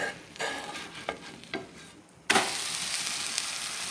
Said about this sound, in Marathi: हे मी आता दुसऱ्या बाजूने भाजून घेते